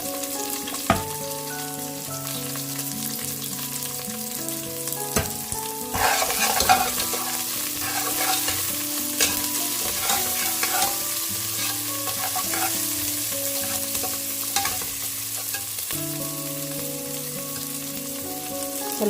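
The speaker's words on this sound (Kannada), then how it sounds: "ಕರ್ಬೇವಿನ ಸೊಪ್ಪನ್ನು ಒಗ್ಗರಣೆಗೆ ಹಾಕ್ಕೊಂಡಿದ್ದಾಯಿತು." Garlic, onion and curry leaves fry in hot oil for a tempering, sizzling continuously while being stirred, with close scraping and crackling under soft background music.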